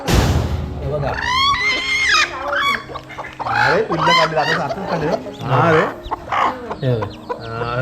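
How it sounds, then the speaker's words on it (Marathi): Chickens at a poultry farm fighting, clucking and squawking loudly and close by, agitated calls tumbling over each other in a noisy scuffle, with voices mixed in. "ह्या बोसणाऱ्या कोंबड्या लय डेंजर असतात एकदम खतरनाक अटॅक करतात"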